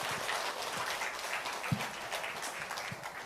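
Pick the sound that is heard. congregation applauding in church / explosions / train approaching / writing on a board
congregation applauding in church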